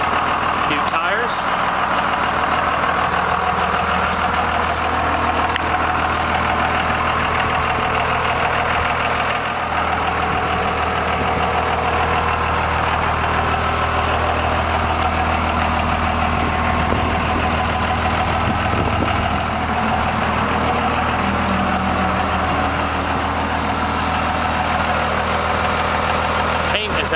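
A 1998 Dodge Ram 2500 with a Cummins turbo diesel idles, a steady loud rumbling clatter with a constant high turbo whine over it, while someone talks nearby.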